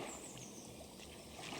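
Oars of a rowboat push through calm lake water, a soft, faint swish and gurgle with gentle trickling, quiet and continuous.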